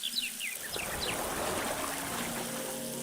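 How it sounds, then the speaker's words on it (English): Cold tap water runs steadily into a stone-lined kitchen sink, a continuous close splashing trickle with a few faint bird-like chirps early on. "remember to open the cold water from the tap"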